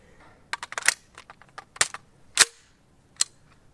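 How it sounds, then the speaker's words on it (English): A rifle fitted with a Kaw Valley Precision Mach 3 fake suppressor, a large hollow tube, being chambered: a quick run of sharp metallic clacks and clicks, then a few louder, hollow knocks, close and alone. "when you chamber around, you get this hilarious dunk sound effect because of how large and hollow this tube is"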